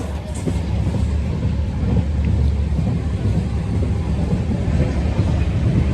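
A train on the Latur to Pune journey makes a steady, loud rumble with wind noise, sounding from inside the moving carriage throughout.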